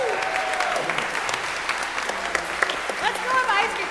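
Audience applause fills the space at an outdoor summer pops concert, a steady wash of many hands clapping with a few brighter whistles and voices rising near the end.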